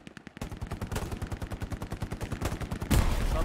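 Rapid bursts of video game gunfire crack in a steady rhythm, loud and close, ending in a heavier blast.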